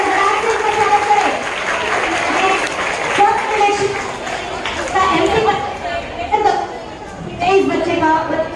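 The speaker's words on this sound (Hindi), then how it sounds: "बच्चे दौड़ कर आए और तालियों की गड़गड़ाहट से इसका स्वागत करें।" Applause rings out for prize-winning children at a Hindi Language Day school event, sustained clapping from a large audience mixed with children's chatter and voices, loud and continuous throughout.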